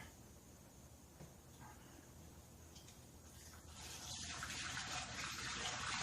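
Non-ethanol fuel is poured through a funnel into a Honda EU1000i generator, a close, quiet trickle that swells into a steadier, louder gushing pour toward the end.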